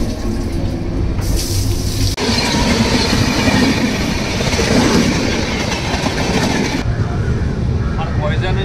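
Vizag to Araku Vistadome glass-coach train running on the rails, a loud continuous rumble and clatter from on board, with a brief surge of brighter hiss partway through.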